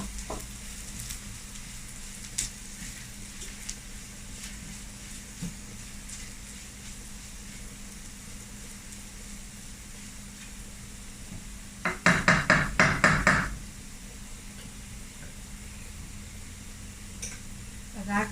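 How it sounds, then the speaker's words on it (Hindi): Onions brown in hot oil with cumin and curry leaves for a tadka, a steady soft sizzle with a sudden burst of crackling spatter midway and light stirring clinks. "ब्राउन हो रहा है प्याज, तो इसके साथ ही ये मैं ज़ीरा और कड़ी पत्ता भी डाल दूँगी।"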